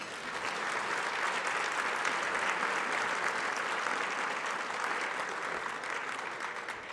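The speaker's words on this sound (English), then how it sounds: "Could I have just a small but intense round of applause for them?" Sustained, dense applause from a seated audience at an awards luncheon, honoring departing board members; even clapping holds steady for several seconds at moderate level, then eases slightly toward the end.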